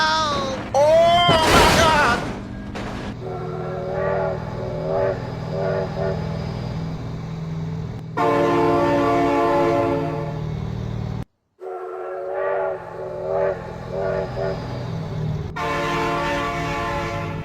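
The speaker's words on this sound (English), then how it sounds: "Oh my god, train." A train rolls through a BeamNG Drive game scene and sounds its horn in long, loud, repeated blasts. A sharp crash at the start and a brief dropout midway break up the steady rumble of rail cars.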